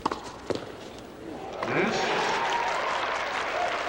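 A few sharp isolated sounds, then a broad swell of crowd applause rising and holding at a 1984 Dallas WCT tennis match, with a commentator's voice faintly beneath.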